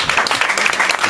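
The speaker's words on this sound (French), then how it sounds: "Encore une fois, les applaudissements pour Isabelle Provost." Brief burst of audience applause at a poetry evening, steady dense clapping across the whole moment without a clear start or end, moderately loud and close.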